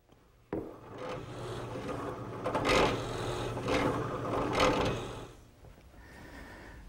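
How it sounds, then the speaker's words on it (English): A 3/4 inch bit bores a hole in wood for a ladder-back chair's side stretcher, giving a sudden start and then a continuous rough, rasping grind with a few surges before it eases off. "now I'll switch to a 3/4 inch bit and drill the hole for the side stretcher."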